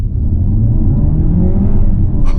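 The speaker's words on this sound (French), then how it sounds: "vas-y David, fais-nous une petite séquence un peu du 4 roues" Peugeot 508 PSE hybrid sedan accelerating hard in four-wheel drive with all three motors engaged, a steady loud rumbling whir that holds constant throughout, close by and alone without voices.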